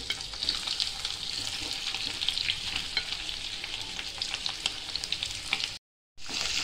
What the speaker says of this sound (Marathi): आता आपल्याला आहे ना ही भाजी ना अशी मस्त एकसारखी परतून घ्यायची।